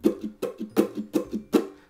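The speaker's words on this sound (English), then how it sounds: "she does the muting string sound," Muted strings are strummed on a ukulele in a song's intro pattern, giving five percussive, choked chucks in a steady rhythm with short ghost strokes between them, close and dry.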